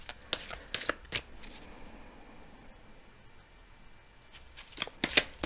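Moonology oracle card deck being shuffled by hand, soft papery riffles and flutters in short bursts at the start and end with a quiet pause between, close and gentle in a calm indoor room.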